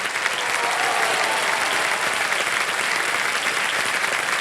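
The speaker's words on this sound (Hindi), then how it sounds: "तालियां बजती रहे इनके लिए।" A studio audience on the quiz show KBC applauds in a sustained, even wash of clapping, loud and continuous with no voices over it.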